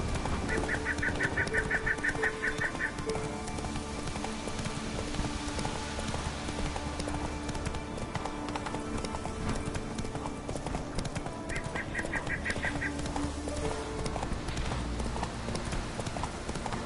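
Roach, the horse in The Witcher 3, walks with steady close hoof clip-clops throughout, while game birds honk and chirp faintly in the background and music hums under it.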